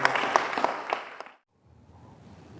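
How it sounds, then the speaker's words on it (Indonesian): Applause from an audience at a youth motivation talk, a burst of clapping lasting just over a second before fading to quiet room noise. "Tepuk tangan dong"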